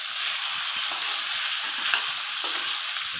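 Ginger is stir-fried in a pan for file fish sinigang, giving a steady, loud, close sizzle with constant frying hiss throughout.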